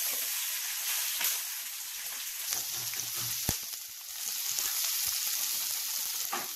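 Beef and vegetables sauté in a frying pan with a steady, broad sizzling hiss and occasional stirring scrapes, close and continuous, no voices.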